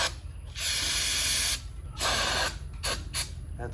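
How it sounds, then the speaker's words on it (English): Carb cleaner is sprayed into the carburetors of an old Honda CL360 motorcycle in short aerosol bursts: one long hiss, a shorter second burst, then two quick blasts, all close and fairly loud. "I'm just going to shoot some starting fluid into the carburetors and see what happens."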